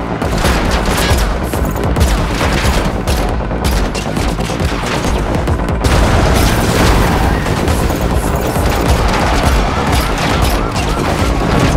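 Dense, loud gunfire from the Unreal Engine 5 Matrix Awakens demo video game, sustained automatic bursts and rapid shots with crashing impacts filling the whole stretch, with brief voices mixed in.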